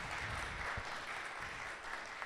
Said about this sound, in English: Round of applause for these students who have a plan.